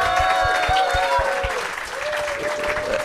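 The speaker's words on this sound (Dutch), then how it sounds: "Geef ze applaus." A live podcast audience applauds Alex Agnew, Mark van Peel and Jens Donker, loud sustained clapping filling the room while a voice speaks over it.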